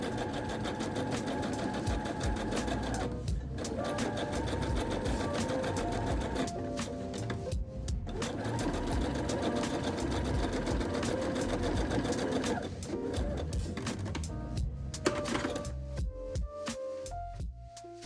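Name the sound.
sewing machine sewing denim basting stitch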